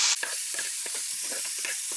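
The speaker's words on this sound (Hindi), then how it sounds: "इसे अच्छे से मिक्स कर लेते हैं।" Spiced long beans sizzle and hiss in a frying pan as they are stirred, a steady close crackle broken by short scraping strokes of the spoon.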